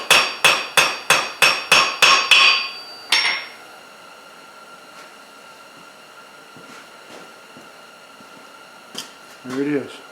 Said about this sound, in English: I use the heel of my hammer at this point. And just hammer along that spine, all the way down to the base